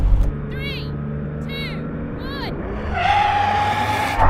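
A Nissan car racing, with several sharp sweeping tire squeals in quick succession followed by a rising engine whine, fairly close over a steady background rumble.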